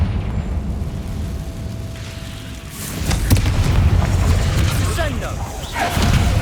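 Confringo fire spell blasts in Hogwarts Legacy combat, booming explosive bursts with rumbling tails that swell loudly midway and recur, mixed with other game effects.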